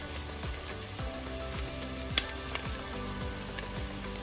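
Tilapia filling for pescadillas frying in a pan and being stirred, a low steady sizzle with soft rhythmic scrapes and a couple of light utensil knocks, fairly faint.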